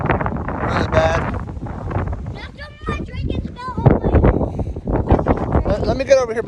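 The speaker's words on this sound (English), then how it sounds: "Wind's blowing really bad." Strong gusty wind buffets the microphone outdoors in a wet, muddy garden beside a truck, a low rumbling noise under someone talking throughout.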